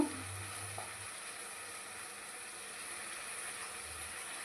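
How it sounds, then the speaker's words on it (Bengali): Ginger, garlic, onion and tomato paste frying with turmeric and cumin powder for egg curry, a faint steady sizzle with a few soft scrapes of stirring, close by and without speech. "ভালো করে কষাবো। ডিমের কারি রান্নার পদ্ধতি, মশলাটা ভালো করে কষাতে হয়।"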